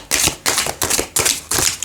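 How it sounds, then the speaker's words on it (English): Tarot cards being shuffled close up, four crisp riffling bursts in a steady rhythm, each a quick flutter of card edges separated by short pauses. "One more shuffle."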